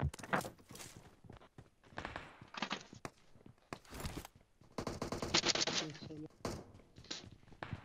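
Video game pistol gunfire: sharp, separate shots scattered through the clip, mixed with footsteps and other game sounds, while players talk over the action.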